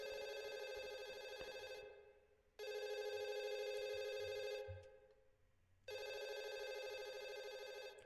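A telephone rings inside a spooky video game, three clean electronic bell bursts separated by short silent gaps, loud and alone with no voices.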